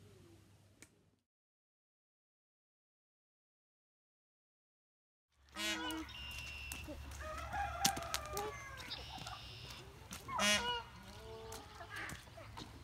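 After a brief silence, peacocks erupt into a chaotic chorus of shrill, wailing calls mixed with the honking of visiting Canada geese at a pond, repeating close by.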